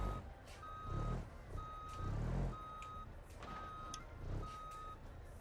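A reversing truck in the video game BeamNG.Drive sounds a steady, evenly spaced series of high electronic backup beeps, about five in a row, over a low engine rumble that swells and fades.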